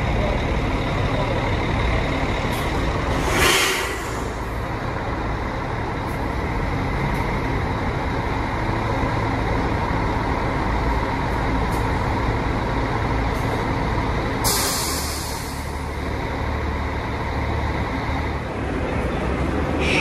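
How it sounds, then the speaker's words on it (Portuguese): A bus pulls into a boarding bay at Goiânia's busy bus station, its engine rumbling steadily amid road traffic, with two short bursts of air hiss from the brakes. "Veículo que já vai se dirigindo aqui ao box"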